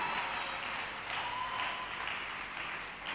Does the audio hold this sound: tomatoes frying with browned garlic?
no